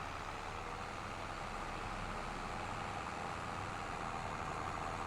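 A tractor engine in Farming Simulator 25, running with a weeder hooked up, makes a steady, close, unbroken drone with broad rumbling noise and no pauses.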